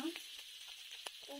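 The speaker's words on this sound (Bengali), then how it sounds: "এরকম মাছ ভাজা" Small fish fry in a pan for a Bengali-style masala, a quiet sizzle with a few soft, sharp crackles and pops scattered over a faint steady hiss.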